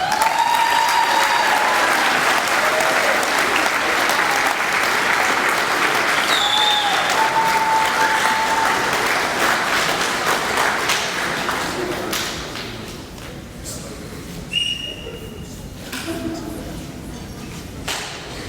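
A crowd at a youth football team banquet applauds in a loud, dense burst that gradually thins and fades, with scattered claps, whistles and a few voices carrying on near the end.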